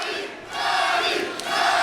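A stadium crowd at a full contact fight roars and cheers in a loud, sustained wash of voices, dipping briefly and then swelling again.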